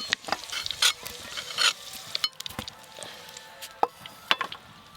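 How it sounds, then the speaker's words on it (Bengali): Potato pieces fry and sizzle in hot oil while a spatula scrapes and stirs the pan in irregular loud bursts, with quieter crackling between strokes. "দিদি একদম আলু ভেজে রেডি, এবার তুলে নেবো আলু"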